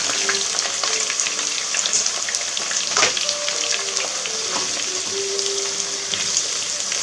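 Chopped onions sweating in very hot oil in a pan, a loud, steady close-up sizzle and crackle with occasional spatters and a brief scrape of stirring, no voices.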